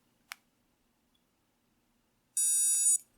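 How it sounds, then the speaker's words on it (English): A Hiro Bluetooth tracker gives its confirmation beep, one bright electronic tone lasting about half a second after a single sharp click, close by in an otherwise quiet room. "So there's my confirmation beep."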